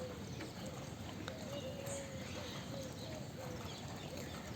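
A horse's hooves clip-clop in a steady trotting rhythm while it is ridden, the muffled beats sitting under a constant wash of outdoor noise, with a faint bird call.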